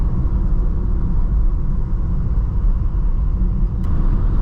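Steady low engine and road rumble from a BMW E90 328i cruising at normal speed, continuous and fairly loud from inside the car with no talking.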